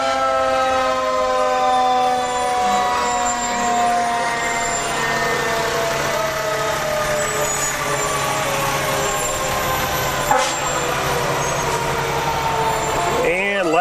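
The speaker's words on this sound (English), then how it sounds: "Next, ladder truck 2005, American La France." A 2005 American LaFrance ladder fire truck rolls through a street parade with its wailing siren sweeping up and down continuously, loud and close, a sharp blast near the end, with crowd noise beneath.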